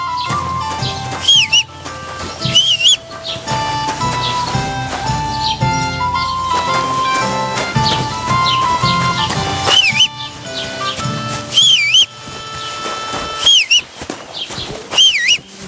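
A character in Kingdom Come Deliverance II whistles a few short, wavering tunes that come and go over a dense bed of game music and ambient sound.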